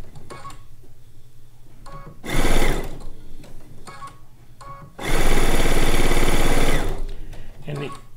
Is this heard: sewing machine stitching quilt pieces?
yes